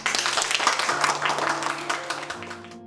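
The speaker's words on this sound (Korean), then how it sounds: "우리 서로를 위해서 박수 쳐줍시다" Students at the end of a newspaper-in-education class clap together in a dense, brief burst of applause that fades slightly over a few seconds.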